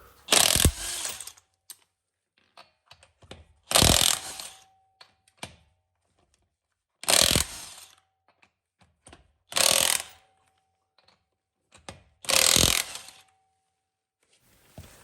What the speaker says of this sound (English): we're going to do 5 lug nuts in a row with both of the impact wrenches